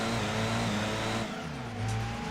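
Race car engines in the Gran Turismo 2 video game hold a steady, loud drone, and the engine note rises and shifts partway through. No one talks over it.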